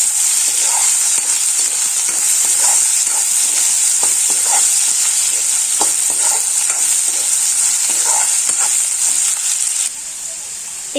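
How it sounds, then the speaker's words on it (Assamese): Sliced onions and chopped potatoes fry in hot oil in a pan, giving a continuous loud sizzle with scattered scraping and clinking as they are stirred, easing off slightly at the very end. "আৰু অকনমান মই ইয়াতে ভাজিম"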